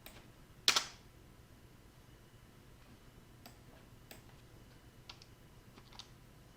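An Enter key struck on a computer keyboard, a single sharp click near the start, followed by a few faint, scattered key taps and clicks against a quiet room hiss.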